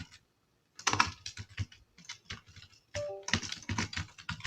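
Fingers type on a computer keyboard, close and crisp, in quick bursts of clicking keystrokes with short pauses between runs and no voices.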